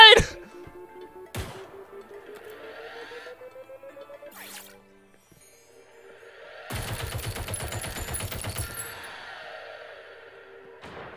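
Turret gunfire in a first-person shooter game, heard as a dense burst of rapid synthetic shots in the second half, with other electronic game effects and rising tones earlier.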